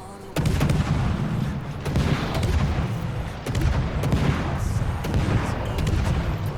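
Naval gunfire in World of Warships from the destroyer Friesland, a run of booming salvos with sharp onsets and rumbling tails repeating every second or so under a steady low engine and sea drone, with some speech.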